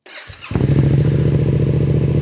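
A Yamaha R7 motorcycle fitted with a Yoshimura R77 exhaust cranks briefly, then fires and settles into a loud, deep, steady burbling idle close by.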